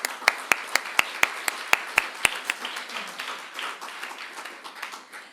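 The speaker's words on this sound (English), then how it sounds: "I think this is also meant for an applause for ITAPA." Audience applause at the ITAPA 2023 conference, starting as about nine sharp, evenly spaced claps and then spreading into a softer, denser patter of many hands that fades slowly.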